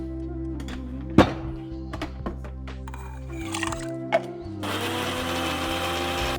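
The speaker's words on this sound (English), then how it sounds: "let's go and grind this now" A kitchen grinder is set up for grinding ingredients for a Tamil meal, with a few clunks and clicks from the jar and lid before the motor starts with a steady loud whir.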